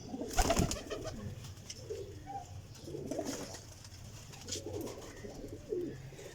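Low, rolling coos come from a Salara Teddy pigeon, repeating at intervals close by, with one sharp knock near the start and faint background bird chirps.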